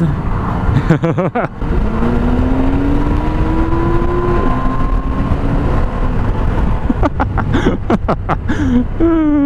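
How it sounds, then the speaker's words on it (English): A Porsche 911 Carrera GTS revs loudly nearby, its engine tone climbing through a gear and dropping at each shift. Heavy road and interior rumble runs underneath, with clicks and knocks near the start and end. "Nice Porsche 911 Carrera GTS."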